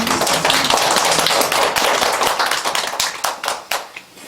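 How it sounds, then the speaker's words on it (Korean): A small church congregation at Sunday worship claps in thanks, sharp individual hand claps close by that start dense and thin out toward the end into scattered separate strikes. "우리 감사의 박수."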